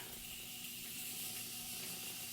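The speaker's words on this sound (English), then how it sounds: "I'm just going to go ahead and spray my face before I do my mascara." Soft continuous hiss of face mist being sprayed onto skin, a faint steady spray lasting a couple of seconds with no talk over it.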